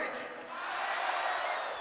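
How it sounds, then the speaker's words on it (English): Ice hockey arena crowd at a Michigan versus Ohio State game, a broad steady roar of cheering that swells into a sustained chant, dense and continuous throughout with no distinct single voices. "The OHIO chant starting."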